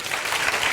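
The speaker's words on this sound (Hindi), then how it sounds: "जोरदार ताली बजाओ" Audience clapping loudly in a dense, steady burst at a lively gathering, a brief wash of applause with no voices over it.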